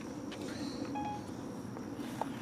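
Several short electronic beeps, some spaced and some quick, sound faintly as a timer is set over a soft background hiss.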